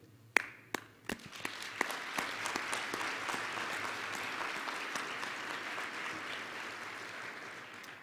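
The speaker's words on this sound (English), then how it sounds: "So we salute and applaud them because this has become a signature event here at BEA" Gala audience at the Black Engineer of the Year awards breaking into applause, starting with a few sharp individual claps that quickly swell into a full, steady roar of clapping from a large hall.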